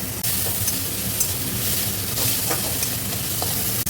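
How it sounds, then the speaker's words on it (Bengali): Chopped onion with a pinch of salt fries in a pan to a light brown, giving a loud, continuous crackling sizzle with small irregular pops throughout. "পেঁয়াজটা একটু লাল লাল করে ভাজবো"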